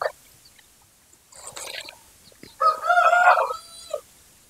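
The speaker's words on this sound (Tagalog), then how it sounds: "Ingay ng manok." A rooster crows loudly nearby in a backyard, a drawn-out cock-a-doodle-doo, preceded by scattered clucking and rustling from other chickens.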